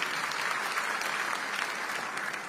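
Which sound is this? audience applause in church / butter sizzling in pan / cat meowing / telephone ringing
audience applause in church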